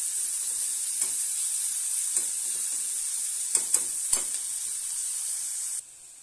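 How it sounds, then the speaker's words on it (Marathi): Onion frying in a pan until brown gives a steady, close hiss of sizzling oil. A few light stirring clicks punctuate it before the sound cuts off abruptly near the end. "हा कांदा नीट आपल्याला आता ब्राऊन होईपर्यंत भाजून घ्यायचा"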